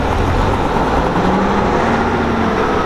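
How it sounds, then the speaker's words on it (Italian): An old Fiat 306 coach bus idles loudly and steadily at close range, a low rumbling engine drone with a faint rising tone as the throttle is blipped, with no talk over it. "ascolta un attimo per l'ultima volta, dammi una bella sgasata."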